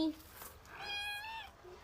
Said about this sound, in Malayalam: നമ്മളെ വീട്ടിൽ 2 പൂച്ചക്കുട്ടികളുണ്ട്.